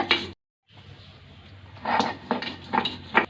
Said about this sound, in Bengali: পেঁয়াজটা এবার বেটে নেব।